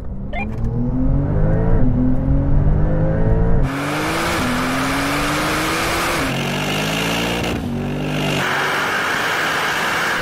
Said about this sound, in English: now we're going to have a rolling race from 50 kilometers an hour in second gear to the half mile